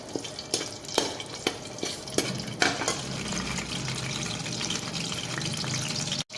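Whole spices, curry leaves and cinnamon pieces, crackle and sizzle in hot oil, with sharp pops and stirring clicks early, settling into a continuous fry.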